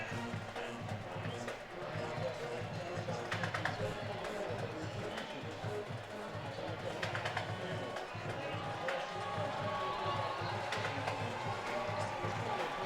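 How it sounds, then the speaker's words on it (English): Crowd noise at a high school football game between Hahnville and Destrehan, with fans on their feet, a steady dense roar of voices and cheering under continuous commentary. "Crowd noise a factor in this one as the Wildcat fans are on their feet."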